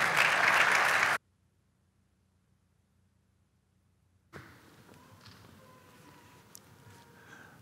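Church congregation clapping at a Sunday service, a brief dense burst that cuts off into near silence, followed by quieter room noise with a few scattered knocks.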